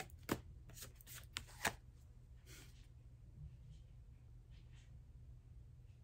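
Tarot cards being shuffled and drawn: a few quick crisp riffles and snaps close by in the first two seconds, then only quiet room tone.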